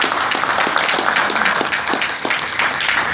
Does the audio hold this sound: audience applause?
yes